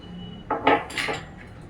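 Whole black pepper being crushed by hand for pepper chicken gives a few short, close, gritty crunches with hard clinking edges, spread over under two seconds with no one talking.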